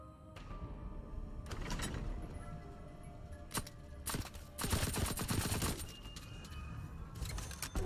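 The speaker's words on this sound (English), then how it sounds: "Submachine gun" A submachine gun fires in Cold War Zombies in repeated rapid bursts and rattling volleys over a dense mix of game noise and mechanical clatter, fairly quiet overall.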